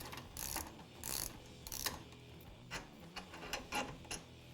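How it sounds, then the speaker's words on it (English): Ratchet driver with an 18mm socket loosening a tie rod fastener on a Can-Am Maverick X3, heard as a series of short, fairly quiet ratcheting clicks in irregular bursts with no talking. "For this, we'll be using an 18mm end wrench, 18mm socket, and driver."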